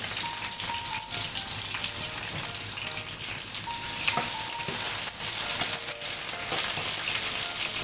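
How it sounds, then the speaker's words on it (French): Okra sizzles in hot oil with a dense, steady crackle that stays loud and close throughout, broken only by a few faint clinks, for a beef and okra dish. "Et là, on va mettre notre gombo dans l'huile."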